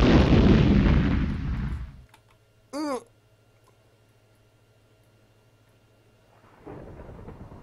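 A bomb explodes in Minecraft, a loud deep blast that rumbles and fades over about two seconds. A short voice exclamation follows, then near quiet with a low steady hum until another rumble rises at the end.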